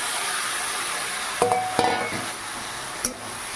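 Boiled peas and potato being stir-fried for Bengali ghugni, a steady oil hiss under a few sharp spatula scrapes and knocks against the pan, close and without talk.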